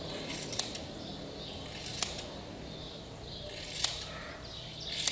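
Scissors cutting hair short around the head for a women's undercut, four sharp, close snips spaced about a second or two apart over quiet background.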